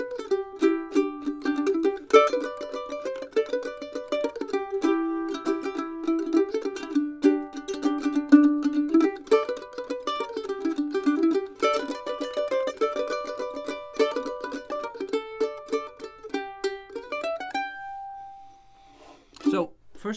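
Mandolin picking "I'll Fly Away" in closed-position double stops, bright rapid tremolo harmonies flowing continuously for about seventeen seconds, played close and alone, ending on a held chord and a final strum.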